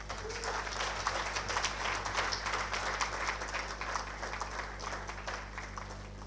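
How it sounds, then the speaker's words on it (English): Conference audience at an African youth gathering applauding a speaker, a faint, steady patter of clapping over a constant low hum. "With the hands of an applause, let's welcome Dr. Daniel Joseph Onoja."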